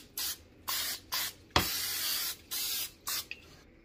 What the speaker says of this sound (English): I'm going to spray these with the butter spray